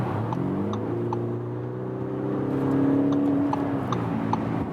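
An Audi SQ5 pulls harder on a highway, its engine note rising and swelling steadily under acceleration, heard from inside over road and wind noise with no talk.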